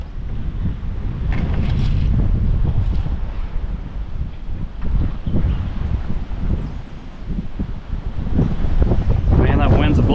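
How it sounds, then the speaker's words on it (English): Strong wind roars across the White River at Dillards Ferry, buffeting the microphone with a continuous low rumble and gusty surges that swell near the end. "Man, that wind's blowing today. It's terrible."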